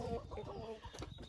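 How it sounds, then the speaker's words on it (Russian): Broody hens cluck in a backyard chicken coop and run, a short burst of close, low, throaty clucking with no talk over it. "2 курочки квохчут, но никак не садятся."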